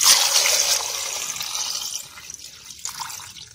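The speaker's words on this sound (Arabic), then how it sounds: "وهنحط عليه ميه عشان نسلقه" Water pours from a tap into a pot of lemons ahead of boiling them for pickling, a bright, splashy rush that is loud at first, then thins out into uneven trickles and drips.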